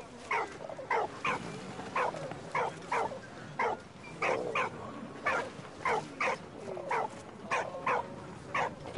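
A dog in the World War I game Valiant Hearts barks repeatedly at a pigeon, sharp evenly spaced barks close up over a steady background hum, with no talking.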